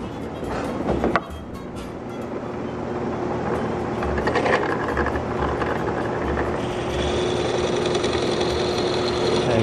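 A drill with a Forstner bit bores into wood while making a replacement window sash, a loud, continuous close grinding whine that builds gradually, with a brief thump early on.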